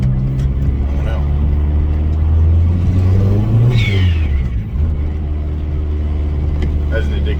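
A turbocharged Mazdaspeed engine revs hard outdoors in snowy, windy weather, climbing and falling in a loud sustained roar with a brief high whine near the middle, then settling into a steady idle-like drone.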